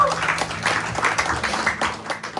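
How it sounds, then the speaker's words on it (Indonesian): A church congregation at a Sunday service claps briefly, a short, uneven patter of hands with some low voices mixed underneath. "Tepuk tangan untuk Tuhan"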